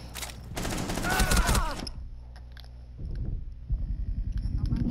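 Rainbow Six Siege gameplay with a burst of in-game gunfire early on, dense and loud for under two seconds, then quieter thuds and shuffling as a player talks.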